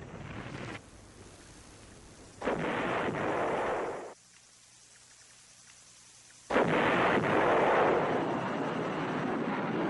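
Artillery fire and bombing in a Vietnam War battle at Prek Lok: broad, roaring rumbles in long sustained blocks with a near-silent gap in the middle, loud and continuous, with no talking.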